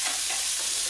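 Salmon and mango salad ingredients stirred in a hot pan, a steady dense sizzle with brisk scraping, loud and close without pause.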